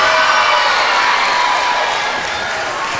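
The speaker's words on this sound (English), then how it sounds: "Margaret Wilson getting a big round of applause." Spectators in a gym at a Minnesota high school volleyball section playoff applaud and cheer as a player is announced, a dense, fairly loud roar of clapping and shouts that eases slightly toward the end.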